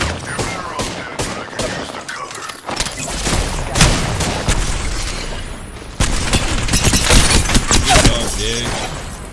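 Enemies fire on the player in a sci-fi shooter video game, with sharp gunshot cracks and thumps in rapid bursts and impacts over a busy battle soundscape.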